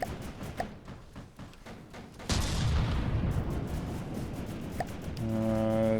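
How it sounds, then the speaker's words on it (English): Rapid automatic gunfire from close-in weapon system guns in the naval combat game From The Depths, a dense continuous rattle of shots with booming impacts, loud and sustained, joined near the end by a steady horn-like tone. "I'm just letting my guns go off in CWIS mode now"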